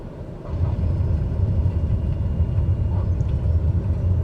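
A single-engine TBM turboprop winds back to idle during landing at Juneau in the MSFS2020 flight simulator, a steady low engine rumble that steps up slightly after half a second and then holds evenly with no talk.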